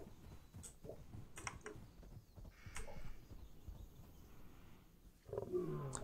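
A lion roaring in the Planet Zoo video game while chasing a buffalo. Deep bursts of roaring sound amid ambient zoo noise, with no talk.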